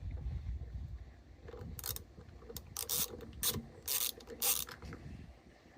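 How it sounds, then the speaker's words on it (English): Ratchet wrench undoing a half-inch steering wheel bolt on a Troy-Bilt Pony 42-inch lawn tractor, a series of short sharp clicking bursts, close and fairly quiet against low background noise. "And then there's a bolt down there that we're gonna undo."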